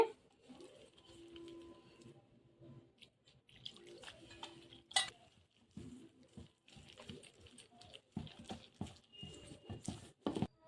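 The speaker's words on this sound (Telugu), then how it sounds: "ఇప్పుడు బజ్జీ పిండి కలుపుతున్నాం" Bajji batter of gram flour, rice flour, ajwain and garam masala is mixed in a bowl, giving faint, irregular wet squelches and soft taps with quiet gaps between them.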